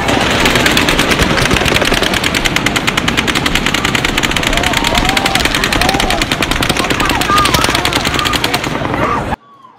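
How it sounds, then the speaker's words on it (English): Recorded volley of gunfire from the Las Vegas shooting: a loud, relentless stream of rapid automatic shots rattling for about nine seconds before cutting off abruptly. "that one was 10 shots at the beginning and then followed by 90"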